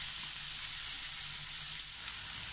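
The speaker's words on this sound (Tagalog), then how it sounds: "ituloy lamang po natin ang ating pagprito hanggang sa ang ating pork belly is mag-brown po siya ng konti" Pork belly sizzles and fries steadily in a pan, a dense, even crackle holding at a constant level throughout with no voices.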